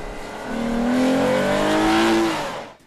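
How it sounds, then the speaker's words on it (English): A 2013 Lexus GS V6 engine revs up smoothly, its pitch climbing steadily with a snarling tone before the sound cuts off, heard close and clear. "The engine is as smooth as a V6 can be, yet it really snarls as the revs climb."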